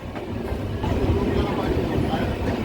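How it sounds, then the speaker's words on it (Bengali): Train approaching Sevoke station in the hills of the Dooars, a steady low rumble of rolling cars with faint clattering, continuous and fairly close throughout. "আমাদের ট্রেনটি অ্যাপ্রোচ করছে এখন সিনিক সেবক স্টেশন।"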